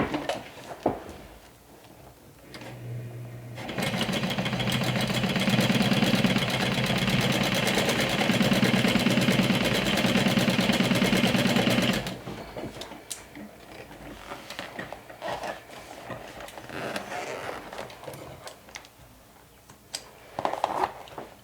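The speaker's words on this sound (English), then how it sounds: "I'm gonna sew from the top so I can keep my seam allowance open." A sewing machine stitches a seam from the top for about eight steady seconds, a fast even whir close by, with quiet handling sounds before and after.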